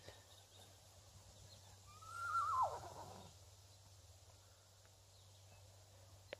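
A horse gives one high, wavering neigh at some distance outdoors, a short descending whinny rising above a low steady background hum, then fading back to quiet.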